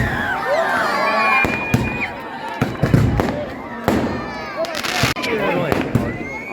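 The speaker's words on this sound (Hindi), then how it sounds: "भव्य आतिशबाजी साथ साथ चल रही है।" Fireworks crackle and burst repeatedly at a village welcome celebration for a political leader, with sharp pops in quick irregular volleys over a constant crowd murmur and voices talking.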